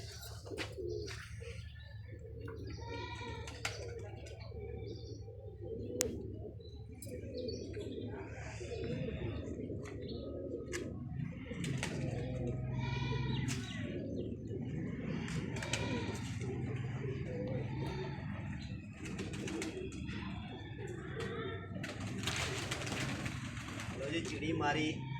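Pigeons coo softly in the morning, among them a sick one, with intermittent chirps and bird calls over a continuous low hum, while people talk nearby throughout.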